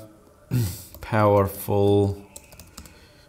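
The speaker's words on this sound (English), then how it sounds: "So I'm just gonna try and type in this, a very similar prompt to what I used." Someone types a prompt on a computer keyboard while saying the words aloud. Soft key clicks sit under the speech, and a few clearer taps follow at the end.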